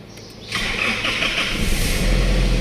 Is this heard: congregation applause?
no